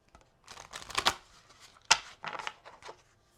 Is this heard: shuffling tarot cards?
yes